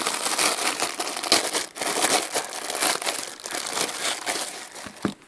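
Noisy plastic outer bag around a dry bag for a Samsung Galaxy Tab 2 tablet being handled, giving continuous close crinkling and crackling with irregular bursts and brief pauses.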